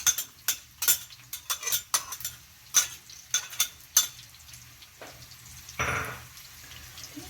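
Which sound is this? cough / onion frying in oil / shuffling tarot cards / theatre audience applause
onion frying in oil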